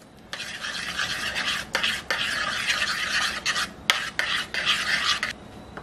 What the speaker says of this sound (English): You have to add the orzo. And mix that in.